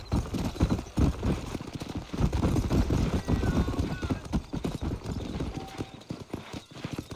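Horse hoofbeats in Red Dead Redemption, a loud steady clip-clop of riding at pace that carries on without pause, with a faint whinny in the mix.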